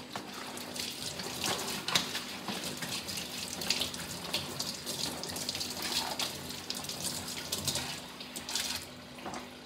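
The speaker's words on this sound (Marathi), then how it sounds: "आता हे पान धुवून घेते." Tap water runs steadily into a sink while a banana leaf, cut into two pieces, is rinsed under it, with a continuous splashing hiss and small clatters of handling throughout.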